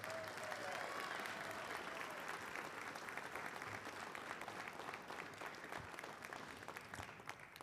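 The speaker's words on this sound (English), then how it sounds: "Let's give this team a round of applause." An audience gives steady, sustained applause for a high school varsity baseball team at a hall of fame ceremony, dense clapping from a room full of people with no speech over it.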